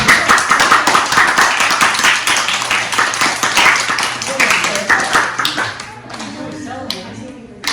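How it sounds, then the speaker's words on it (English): Audience at a Buddhist dharma talk clapping hands, a dense burst of many claps that thins into scattered individual claps toward the end, with some voices underneath. "You can clap your hand if you like."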